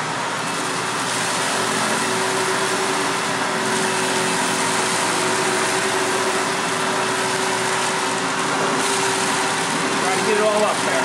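A Hoover WindTunnel vacuum cleaner runs continuously over carpet, a loud, steady motor drone with broad rushing noise, while a voice talks over it throughout.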